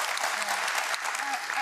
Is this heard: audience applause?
yes